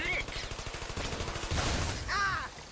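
Rapid turret gunfire in Trials of the Blood Dragon, a dense burst of repeated shots with a player's excited shouts and vocal reactions mixed in.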